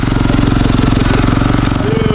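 A motorcycle engine runs steadily up close, a loud, continuous throbbing with an even pulsing rhythm that barely changes throughout, and no talking over it.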